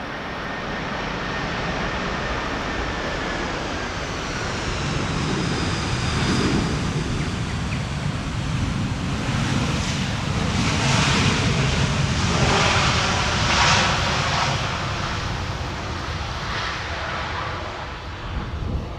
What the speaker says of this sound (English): Fire up those reversers, please.